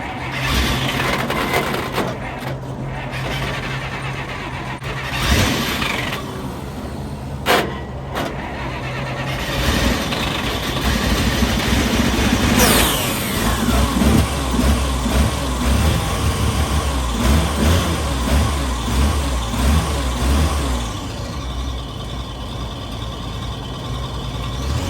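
A 1940 Dodge VFA32 truck engine, fed from a rigged gas can, cranks and catches into a loud, continuous rough idle and revving that fills the clip up close, with no talking.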